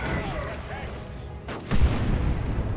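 A heavy, high-powered shot lands in a Warhammer 40,000: Dawn of War 2 battle, a single deep boom that swells over busy battlefield noise while a voice talks over the action.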